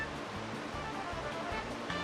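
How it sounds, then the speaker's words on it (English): A steady, soft rushing roar of a waterfall in the Kirby Air Ride video game, continuous and low in level, with a repeating low musical pattern pulsing underneath and no voices. "It's a cool waterfall over there."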